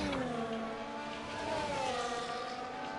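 Race cars in a racing video game rolling up to the starting grid, a steady layered engine drone with shifting revs from several cars, continuous and fairly loud throughout.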